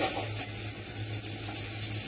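French toast fries in hot butter in a pan, giving a short, steady close-up sizzle with a soft bubbling hiss and no voices.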